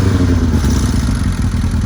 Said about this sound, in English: Tick over sounds quite low on it.